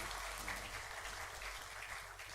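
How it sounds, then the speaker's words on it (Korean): A church congregation at an ordination thanksgiving service applauds in encouragement, a steady, faint wash of many hands clapping throughout with no speech. "격려의 박수 한번 뜨겁게 하십시다"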